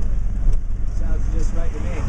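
An auto rickshaw engine drones steadily in third gear on a Bangalore street, a close, continuous rumble with traffic around it and people talking over it.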